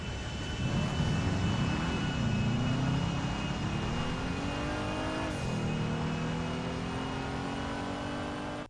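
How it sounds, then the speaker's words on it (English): A Woodlander truck engine drives in GTA Online, a loud, continuous droning motor whose pitch climbs and settles as it accelerates and shifts, heard alone without any talk. "we now have gameplay of how this car is going to drive and sound"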